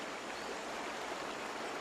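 Water runs steadily through a creek bed in a Cambodian jungle, a soft, continuous rushing wash that stays even and fairly faint, with no voices.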